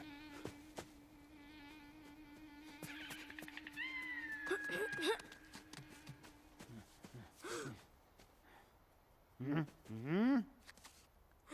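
A cat meows repeatedly in a film scene, with several drawn-out, rising and falling cries that come close and fairly clear over a quiet background.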